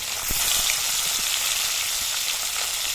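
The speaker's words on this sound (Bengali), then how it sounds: "মাছগুলো ভেজে নিই" Steady, dense sizzling of tilapia fish frying in hot oil, loud and close, with occasional faint pops and no talking.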